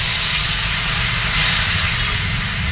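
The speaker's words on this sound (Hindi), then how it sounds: "अब हम लोग मसाला वगैरह डाल दे रहे हैं इसमें।" Spices are tipped into hot oil in a frying pan that already holds fried onion, garlic and chilli for a chicken curry, giving a loud, steady sizzle and hiss that runs unbroken for the whole stretch with no talking.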